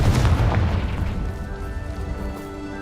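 Confringo blasting-spell explosion in the game Hogwarts Legacy: a loud booming burst up front with rumbling debris that slowly fades over a few seconds.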